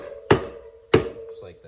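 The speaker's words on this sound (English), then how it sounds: "we're going to put a bigger flathead on one of those lips, and we're just going to try to tap it out" Two sharp metallic taps from a flathead screwdriver struck against a stripped brake rotor bolt to knock it loose, spaced about half a second apart, close and fairly loud over a steady background hum.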